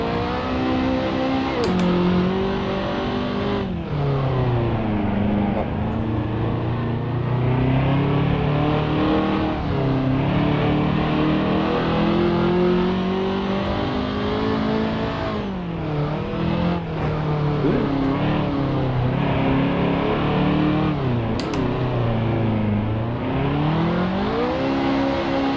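Mercedes 300SLR racing on the Targa Florio in Assetto Corsa, its engine loud and close, revving hard with repeated pitch climbs, sharp drops at gear shifts and lifts into corners, running continuously without talk.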